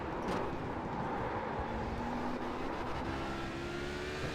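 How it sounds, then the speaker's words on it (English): Race car engine in the Road America racing video game, a loud sustained high-revving drone with shifting pitch and brief dips as the traction control cuts power when the rear tyres lose grip. "We can hear the traction cut when the rear tyres aren't happy with what we're asking them to do."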